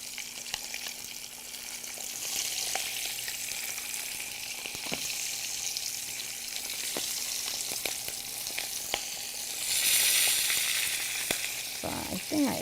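Pomfret (rupchanda) fish pan-frying in a fry pan, a steady close sizzle that swells louder near the end, with occasional scrapes and taps as the fish is moved around.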